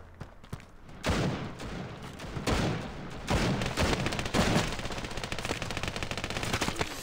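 Rapid bursts of automatic gunfire and sharp shots in the shooter game Standoff 2, loud and close, coming in dense repeated volleys after a few sparse opening shots.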